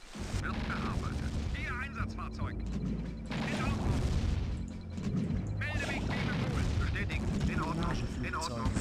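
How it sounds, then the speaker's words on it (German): Torpedo explosions hitting a coastline in the real-time strategy game Command and Conquer: Red Alert, heard as repeated booming blasts and rumbling impacts under continuous game noise and someone talking over it. "seine Torpedos explodieren an der Küste"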